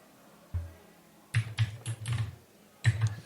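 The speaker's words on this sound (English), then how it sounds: "I hear vigorous typing noises." Someone types vigorously on a computer keyboard in quick clusters of close, clicky keystrokes, with short pauses between the bursts.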